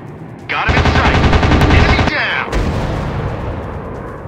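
WW2 fighter planes in the Warplanes video game fire a loud continuous machine-gun burst for about a second and a half, which gives way to a roaring engine drone, with a voice faintly underneath.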